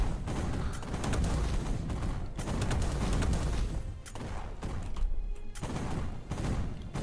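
Tank cannon and machine-gun fire in the video game Tank Arena Steel Battle, loud dense bursts of shots and booms repeating in waves with brief gaps between volleys.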